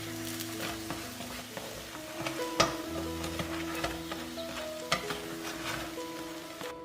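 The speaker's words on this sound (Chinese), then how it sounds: "来回多翻动几次，煎到它鼓起来，两面都金黄就熟了" Scallion pancake pan-frying while being flipped back and forth: a continuous close sizzle broken by light taps and scrapes of the turner, over a low steady hum.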